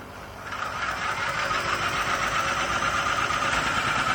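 A 2.5 kW biogas generator set catches and starts as its gas valve is opened slightly, going from a quieter hum into a steady, close, loud rhythmic engine chug that runs evenly, with no talking.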